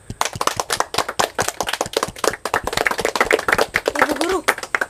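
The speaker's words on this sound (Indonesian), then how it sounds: "kita beri tepuk tangan untuk Presiden dan Wakil Presiden kita" A classroom audience claps for the newly declared class president and vice president, sharp irregular claps from a few close hands, with a voice rising briefly near the end.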